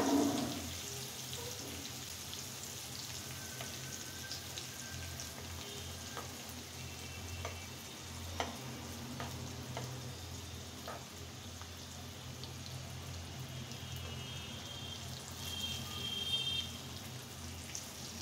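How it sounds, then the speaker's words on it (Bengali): Stuffed bitter gourd fries slowly in hot oil over a lowered flame, giving a soft, steady sizzle and crackle with a few small pops, fairly quiet and continuous without talk. "এখন এটাকে আমি খুব ধীরে ধীরে এটা ফ্রাই করে নিব"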